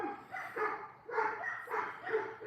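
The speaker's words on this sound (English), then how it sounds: "I don't know what the hell's going on tonight with all the dogs" Several dogs bark outside after dark on a cold night, a repeated series of about five barks in uneven rhythm, moderately distant and clear, with no talking.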